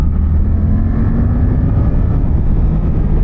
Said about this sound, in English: two cylinders have this very distinct sound